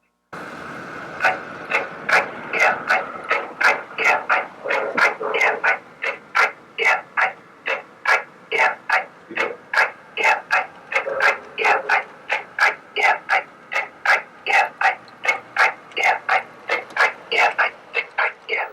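A QSI sound system in a model Niagara steam locomotive chuffs in a steady, even rhythm, each puff crisp and regular, repeating many times close by.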